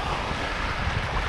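Sea waves at a clean sandy beach at Vityazevo near Anapa break loudly and close, a churning surf roar with wind buffeting the microphone and no voices over it.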